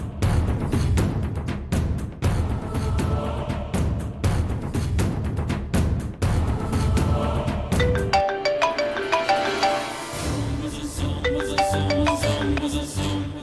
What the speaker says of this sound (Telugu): రింగ్ అవుతుంది మేడం.